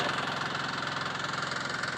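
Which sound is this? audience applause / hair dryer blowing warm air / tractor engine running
tractor engine running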